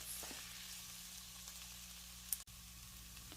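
Tomato paste cooking in a pot for homemade tomato soup gives a steady, soft sizzle throughout, with one brief sharp click near the middle.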